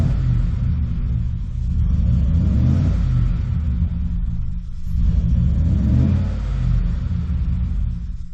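A truck engine that won't hold idle, running steady and low with rough rumbling surges of revving, loud and close throughout with no talk.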